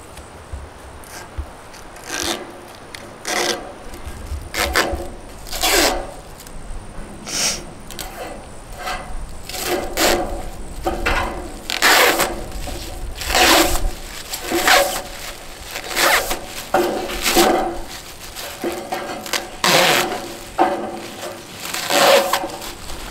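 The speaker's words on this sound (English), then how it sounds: "I like peeling off that plastic" Plastic sheeting peeled off a mobile home roof during a salvage rebuild, giving repeated crackling, tearing rips in irregular bursts, close and fairly loud over a low background rumble.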